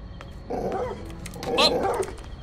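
Dog barking in the video game OutRUN: a couple of short yelping barks close by, with a voice speaking briefly between them.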